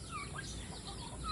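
Chickens on a small backyard farm shared with turkeys cluck softly and intermittently, faint and close-ish, over a low, steady outdoor background with no talking.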